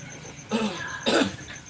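Two harsh coughs close by, a short pause between them, with faint background noise and no talking.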